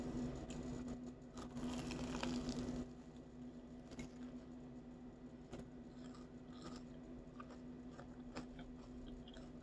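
Bites into a crispy Pulmuone mozzarella hot dog, a series of close, soft crunches and chewing sounds scattered over a low steady hum, with no talk.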